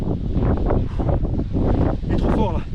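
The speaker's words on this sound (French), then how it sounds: "je suis caché du vent" Strong wind buffets the microphone near the summit of the Puy de Sancy in Auvergne, a loud, continuous low roar with gusting surges throughout.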